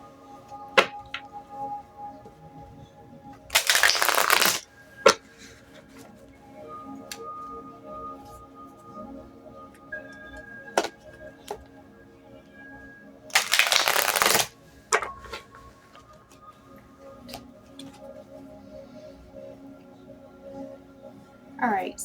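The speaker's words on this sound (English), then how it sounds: "we're going to pull some cards for both the masculine and the feminine just to find out what are they not saying right now" Oracle cards are shuffled for a tarot reading in two short, crisp riffling bursts several seconds apart, with quiet taps and card handling in between.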